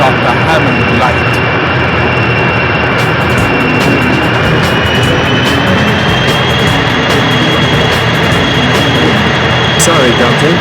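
A jet airplane engine in the PS1 driving game 007 Racing gives a steady, loud roar with a high whine throughout, under scattered game effects.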